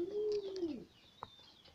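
Pigeons coo close by, one low, drawn-out, throaty call followed by a brief softer sound, with faint chirps in a quiet background.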